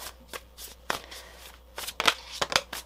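Tarot cards being shuffled by hand, a run of crisp riffling bursts and flicks, close and fairly loud, in uneven clusters with short pauses between them.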